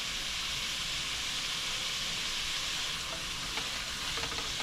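Red peppers stirred into a frying pan with celery and other vegetables, giving a steady, close sizzle and hiss with faint scraping of the stirring throughout.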